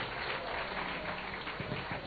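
A graduation-style crowd at a traditional durbar and Juneteenth celebration at Christiansborg Castle applauds the Bamboo Orchestra, giving a brief, dense, even wash of clapping heard from a distance at low volume.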